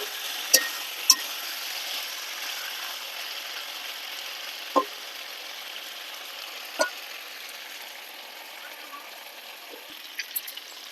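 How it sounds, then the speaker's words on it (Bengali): Chicken pieces sautéed in a pan for chicken polao give a steady broadband sizzle, with a few sharp spoon-against-pan clinks scattered throughout. "মাংসটা ভালো করে কষিয়ে নিতে হবে।"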